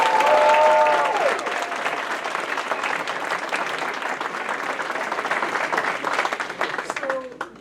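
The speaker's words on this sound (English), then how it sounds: "Let's start by giving all of them an opening round of applause." Sustained applause from a ceremony audience welcoming a new group of chiropractic interns at a pinning ceremony, dense clapping throughout, with a brief voice near the start and fading at the end.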